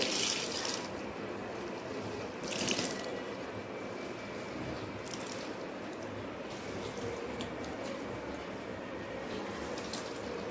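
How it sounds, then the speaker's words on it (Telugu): Water squishes and drips as a rice-starch-soaked wet saree is wrung out by hand, quiet and close, with a few sharper bursts of squeezing and splashing. "ఇప్పుడు గట్టిగా పిండేసుకోవాలి"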